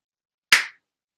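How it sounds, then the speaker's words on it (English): A single sharp hand clap, loud and close, in an otherwise silent moment, with a quick decay and nothing before or after. "I clap my hands to be able to sync it later."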